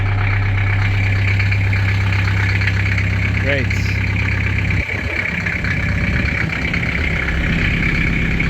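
Car engine idling in neutral after a fresh oil change, a steady low hum that stays even throughout while a voice speaks briefly over it.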